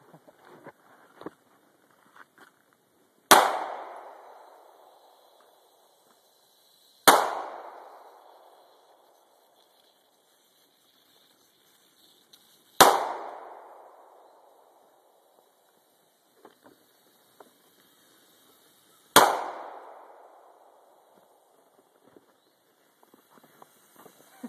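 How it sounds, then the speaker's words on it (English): Four loud, sharp gunshots ring out at a deer hunting camp, spaced several seconds apart, each echoing briefly before fading into quiet outdoor background. "Daddy probably heard them gunshots, you know?"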